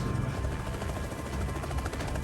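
A helicopter taking off in Suriname drones loud and close, its rotor a steady thudding roar filling the whole clip with no voices.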